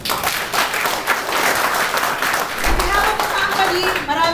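Applause from an audience at a company leaders' gathering, a steady wash of clapping that fills the whole stretch, with a voice faintly audible underneath near the end.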